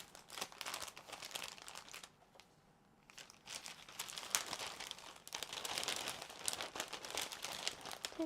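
Someone rummages through a pack of die cut paper pieces for scrapbooking, giving soft, close crinkling and rustling that runs in bursts with a brief quiet gap, low in level and free of talk.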